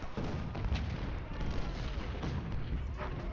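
Artillery barrages in Ultimate General: Civil War, a Civil War battle game, rumble as dense continuous booming and distant gunfire filling the whole stretch at steady loudness, with no distinct single shot standing out.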